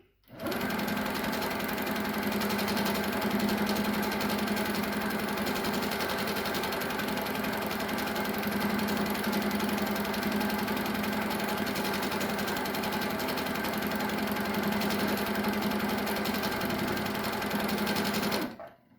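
An HQ Sweet Sixteen sit-down quilting machine runs steadily while free-motion stitching feather borders on a quilt, a continuous close whirring hum with no pauses and no talk.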